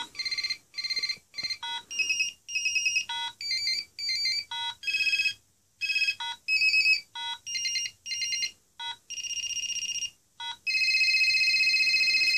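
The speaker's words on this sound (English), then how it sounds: "you got a selection of ringer styles. If you wanted to go in and change that, you had different ringtones." A series of electronic ringtones from a vintage Motorola Digital Elite MicroTAC flip cellphone, each played briefly in turn with short pauses between, bright beeping and warbling melodies, loud and close, with no talking.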